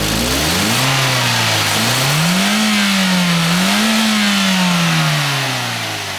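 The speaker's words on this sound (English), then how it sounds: "we are going to accelerate this car" A repaired car engine, previously suffering low power and hesitation, revs up steadily under acceleration, its rising and falling drone loud and close throughout, easing slightly near the end.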